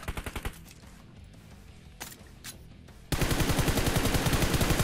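Rapid automatic gunfire in a shooter video game: a short opening burst, scattered single shots, then a loud sustained stream of fire for the final seconds.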